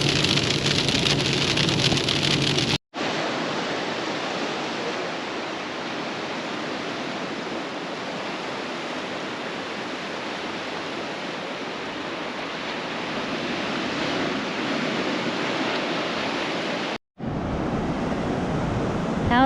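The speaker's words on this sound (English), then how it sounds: "Okay, so as much as we said this was a great spot, it is raining." Rain at a beach in the Bay of Fires, a dense continuous hiss of falling water, loud and close, steady throughout with two brief cuts, no voices.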